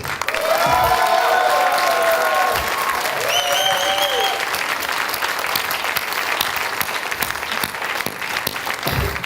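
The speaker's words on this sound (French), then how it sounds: "Je vous demande un tonnerre d'applaudissements pour Quentin." A large audience breaks into a thunderous round of applause that fills the hall and holds steady and loud throughout, with a few raised voices and cheers cutting through at the start.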